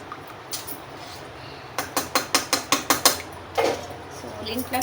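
A pressure cooker lid being closed over biryani gives a run of about eight evenly spaced metallic ratcheting clicks, fairly close, followed by a duller clunk and rustle.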